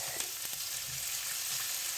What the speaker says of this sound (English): You need to get that sizzling sound, you know.